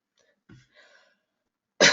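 A person coughs indoors in a dusty room. Quiet, muffled throat sounds come first, then one sharp, loud cough bursts out at the end.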